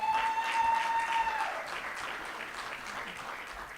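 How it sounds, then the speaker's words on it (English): Applause for a senator at an annual meeting fills the room, a broad, even spread of many hands clapping, strongest at the start and gradually fading over a few seconds. "another round of applause for the senator"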